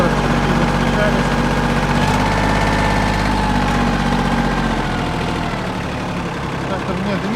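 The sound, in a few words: mini tractor engine idling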